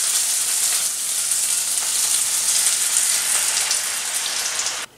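Eggs and green beans fry in a pan with a steady, dense sizzle that crackles evenly throughout before cutting off abruptly at the end; no one speaks.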